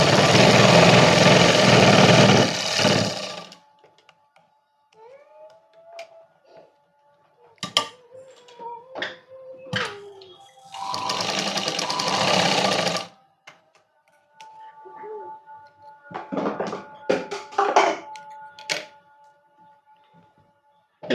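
A sewing machine stitching a princess cut blouse runs in short bursts of steady whirring, separated by quiet pauses filled with faint handling clicks and rustles.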